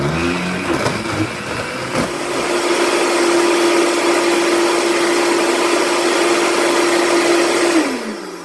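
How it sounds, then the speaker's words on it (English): A blender whirs steadily through a frozen peanut butter cup smoothie, starting with rough chopping bursts, settling into a loud, even whine, then winding down at the end. "So we're going to blend this up."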